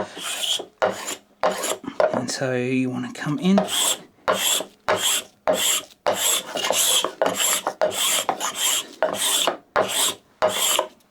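Repeated rasping scrapes of a cabinet scraper across jarrah hardwood, each stroke a short burst with pauses, close up, and a brief voice in between.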